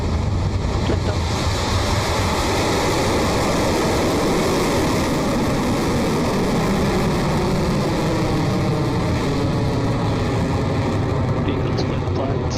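A Rocket Lab rocket lifting off from the launch pad: a loud, continuous, broad roar that stays steady throughout, with a voice calling out over it.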